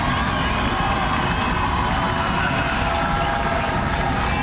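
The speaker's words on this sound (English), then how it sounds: "this is the loudest I've heard this crowd all game" A large stadium crowd roars at a high school football game, a dense, loud, continuous wall of cheering and noise that holds steady from start to finish, with no single voice standing out.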